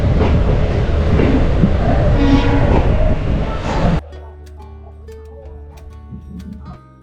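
A passenger train pulls away from platform 1 at Shornur railway station, its loud rumbling and clattering wheels filling the first few seconds before the sound abruptly drops to a quieter, sparser rattle with faint clicks.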